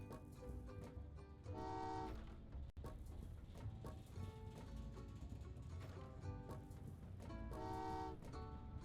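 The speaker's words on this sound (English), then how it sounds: "So we want to send 7 lots of trains that way." Trains roll through a Train Valley 2 railway puzzle level, a low steady rumble of moving cars with two bright horn toots rising out of it, all quiet and continuous.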